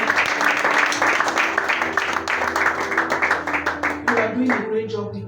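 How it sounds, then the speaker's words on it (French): A church congregation claps together in a dense, continuous wave of applause that thins into scattered claps toward the end, with a voice speaking over it. "Those who are standing with us, put their hands together."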